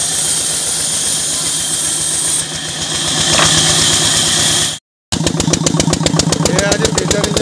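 An engine runs near a rural home where wood is being sawn into planks for a chicken coop door; a loud, steady chugging drone, briefly cut off, then resuming with a harder rhythmic pulsing.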